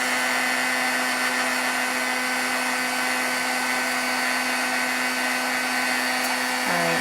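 A handheld heat or hair dryer blows steadily and loudly over a stamped paper craft, a constant close whine and rush of air that cuts off at the very end.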